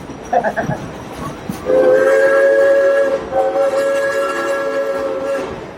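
The Frisco Silver Dollar Line steam train at Silver Dollar City blows a long, loud, steady whistle blast, with a brief hiss and a chuff first and rail noise underneath.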